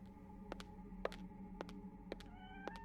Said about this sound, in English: It's the cat.